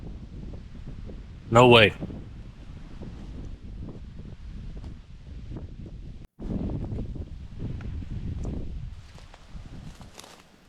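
Gusty wind buffets the microphone outdoors on a wild camping hike, a low rumbling roar rising and falling across the clip, with a brief spoken exclamation and some footstep-like rustling.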